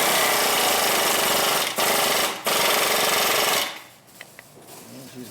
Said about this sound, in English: Alright, here's the air gun.